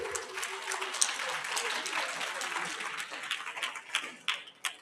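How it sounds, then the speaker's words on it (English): Audience applause at a production summit, a steady wash of many hands clapping at moderate level, thinning into scattered individual claps toward the end. "let's give her a round of applause"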